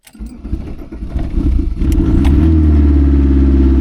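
A van's diesel engine cranks and catches after its glow plug is heated. The rumble builds into a loud, steady idle close by.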